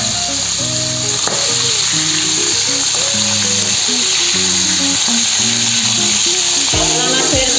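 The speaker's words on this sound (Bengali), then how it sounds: "এখন আমি মাছগুলোকে ভেজে নেব। মাছগুলো খুব ভালো করে ভেজে নিতে হবে।" Pieces of katla fish fry in hot oil with a constant loud sizzle under a tonal electronic hum and a few short clinks, with no one speaking.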